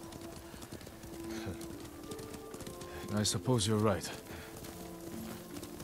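Horse hooves clip-clop steadily as a horse is ridden in the Ghost of Tsushima video game, a soft rhythmic plodding that runs beneath ongoing conversation and light background ambience.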